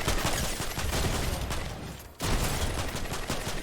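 Rapid sustained gunfire from a weapon in Fortnite, dense loud bursts of shots with a brief pause near the end before the firing resumes.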